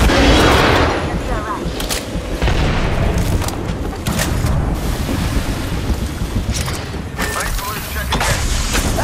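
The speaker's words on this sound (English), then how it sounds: "Grenade out!" Grenade blast in the Apex Legends battle royale game, a loud boom at the start giving way to sustained rumbling combat noise with scattered sharper impacts.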